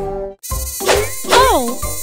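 In a children's zombie nursery song, mosquitoes buzz as sung, whining tones that glide up and down in three loud, close bursts, with a brief gap at the start.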